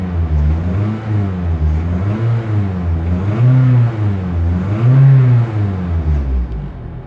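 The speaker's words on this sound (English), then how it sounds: "So I'm gonna rev the engine real quick again." Toyota Celica engine with misfire codes P0171, P0300 and P0301 revving up close, with several swelling rises and falls in pitch over a rough, steady idle rumble, heard alone without talk.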